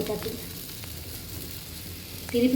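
A frying omelet in a pan gives a soft, faint sizzle that runs steadily, with a brief louder clatter near the end and no clear speech.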